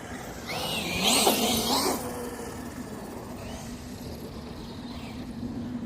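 ZD Racing Pirates 2 RC car driving with ballooning tires, a high electric whine that rises and passes close by over about a second, then fades to a faint distant drone.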